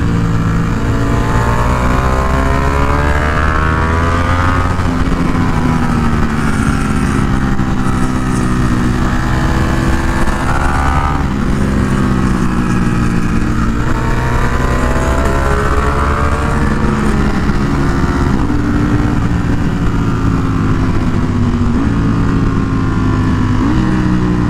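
A Ducati motorcycle engine runs continuously and loudly, a steady close drone whose pitch rises and falls with repeated revving, with no voices.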